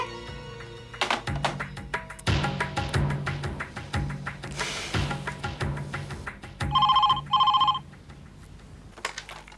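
A telephone rings in two short electronic bursts, close and clear, between rhythmic tapping and thumping sounds.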